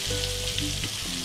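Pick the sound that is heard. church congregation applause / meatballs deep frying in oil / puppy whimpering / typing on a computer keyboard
meatballs deep frying in oil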